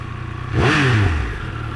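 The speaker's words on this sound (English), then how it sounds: "Hardly any vibrations on this bike. Smooth Moto 2 sound." A Triumph Speed Triple motorcycle engine revs once, close and fairly loud, its pitch swelling up and then sliding back down to idle within about a second.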